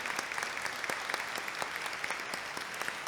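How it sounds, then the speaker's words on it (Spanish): Audience at an international conference on inclusion and disability applauding after a talk, a steady patter of many hands clapping, moderately faint and continuous, with a few louder individual claps standing out. "me estáis oxigenando a mí, gracias a vuestros aplausos"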